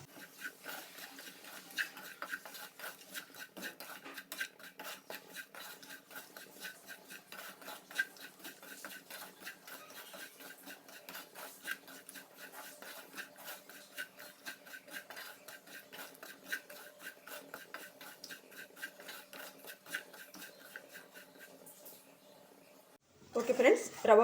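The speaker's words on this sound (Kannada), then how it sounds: "ರವೆ ಹಾಕ್ಕೊಳ್ತೇನೆ. ಇದು ಕೂಡ ಫ್ರೈ ಮಾಡಿಕೊಳ್ಬೇಕು." Semolina dry-fried in a pan is stirred with a steady, rapid scraping and rasping that runs continuously at low level, ending in a brief louder clatter.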